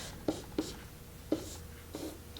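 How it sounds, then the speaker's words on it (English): Marker or chalk writing on a board during an algebra lesson, four short scratchy taps and strokes spaced irregularly, close and moderately quiet with no talking. "So I will write that"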